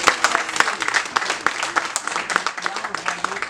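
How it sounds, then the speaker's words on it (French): Congregation applause fills a church during a Eucharistic celebration, a steady patter of many hands clapping with sharper individual claps standing out and murmured voices underneath. "Il faut l'applaudir pour moi."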